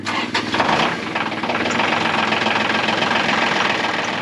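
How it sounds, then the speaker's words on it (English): A tractor engine cranks and catches, then settles into a loud, steady low idle with a rhythmic chug lasting several seconds. "now it's time for me to fire up my tractor"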